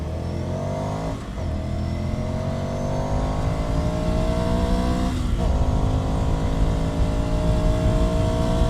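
A 2020 Ducati Scrambler Sixty2 motorcycle ridden hard: a loud, close engine drone that climbs steadily in pitch through the gears, with two brief shift dips along the way and no talk.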